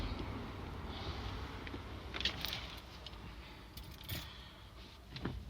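Car keys for a 2019 SsangYong Tivoli with keyless entry jingle and clink softly in a few brief bursts against a quiet background.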